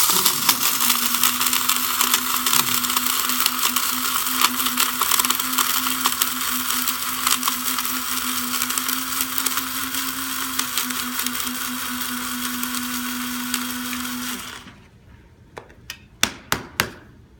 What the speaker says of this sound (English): Do you find that the fennel seeds grind up well with that?